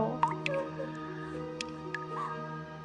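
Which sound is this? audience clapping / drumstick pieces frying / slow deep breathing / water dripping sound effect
water dripping sound effect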